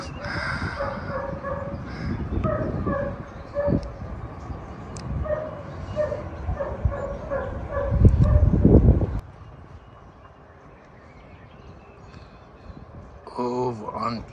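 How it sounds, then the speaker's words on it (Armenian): Dogs barking outdoors at dusk in Yerevan near singing fountains, with repeated yips and barks scattered through the first part. People talk over the barking and a crowd murmurs in the background. "Հա, շներն են"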